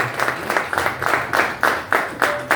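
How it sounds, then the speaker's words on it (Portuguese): Rhythmic clapping in unison at a church service, steady beats roughly every quarter second, with a few people clapping together in a room, moderately loud. "aplauda o Senhor com alegria para aquecer mais o ambiente, em nome de Jesus."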